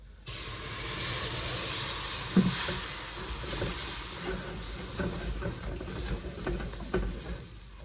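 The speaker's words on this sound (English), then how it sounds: "I'm going to start adding the milk in a little bit at a time." Steady sizzling and frying hiss from a hot pan, with stirring scrapes and bubbling as liquid is poured in, loud and close.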